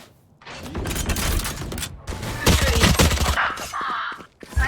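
Dense bursts of gunfire in the Valorant video game, rapid overlapping shots and impacts crowding together, loud and continuous for several seconds, with a brief mechanical sound near the end.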